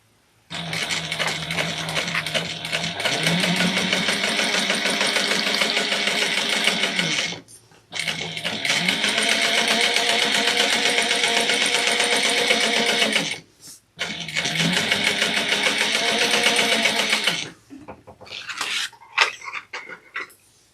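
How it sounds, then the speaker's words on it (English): Sewing machine topstitching a convertible backpack at an eighth of an inch, whirring loud and close in three long runs of steady stitching split by short stops, ending with a few soft handling clicks. "we are going to top stitch it at 1/8 of an inch."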